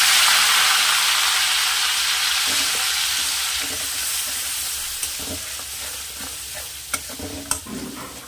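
Onion paste from two small onions frying in oil for a Bengali-style katla fish curry: a loud, steady hiss that slowly fades, with occasional spoon-against-pan knocks near the end.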